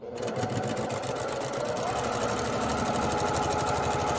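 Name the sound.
sewing machine back stitching a quarter-inch quilt seam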